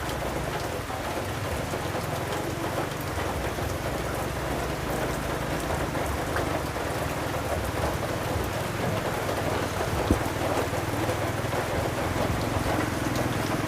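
Steady rain falls and patters on surfaces, a continuous moderate hiss with no break across the whole stretch.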